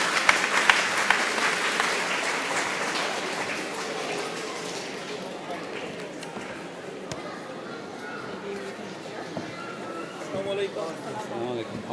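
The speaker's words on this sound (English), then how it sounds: "A big round of applause for them." Applause rises for the organizers at an Islamic History Month event on Islam in Bangladesh, fairly strong at first and then thinning to scattered claps as people begin talking under it.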